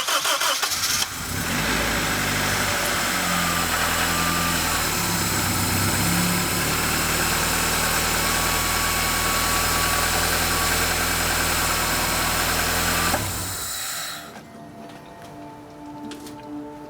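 A car engine, just after fuel system repair, catches and runs at a steady, loud idle close by for about twelve seconds, then cuts off into quiet.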